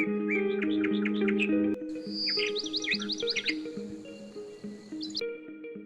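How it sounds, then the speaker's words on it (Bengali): Many birds chirp and twitter together in a big tree near Kolkata, a dense, continuous chorus of overlapping high calls and trills, fairly close and steady throughout. "বেরিয়ে যাওয়ার সময় একটা বিশাল গাছ চোখে পড়লো। কত পাখি আছে এখানে আমার জানা নেই।"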